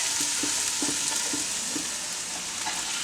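Carrots cooking in a soup pot for Siberian soup, giving a steady broadband sizzle with faint stirring clinks at intervals, moderately loud and close, with no voices.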